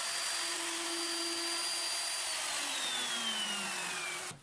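A router cuts a shallow pass a few millimeters deep for a tenon, running as a steady close whine the whole time before cutting off sharply at the end.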